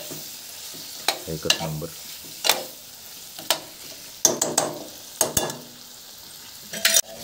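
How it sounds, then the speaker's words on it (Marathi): Mutton is stir-fried in a pan on a wood-fired stove, with sharp, repeated scraping strokes of the spoon over a soft sizzle. A voice speaks briefly. "मस्त असं परतून घ्यायचे, मिक्स करून घ्यायचं आहे एकजीव करून"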